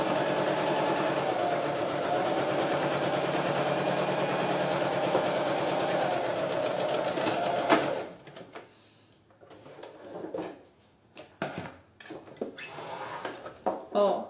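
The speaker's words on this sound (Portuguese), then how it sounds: "Então eu tô costurando o sintético e a alça" A sewing machine with a size 14 needle stitches synthetic leather and a strap in a fast, steady mechanical whir for about eight seconds. It then stops, and soft handling clicks and rustles follow.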